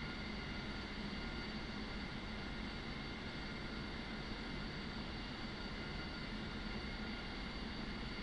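Steady, even roar of an MB339 jet engine at full throttle in DCS World, a constant broadband whine and rumble with no voices.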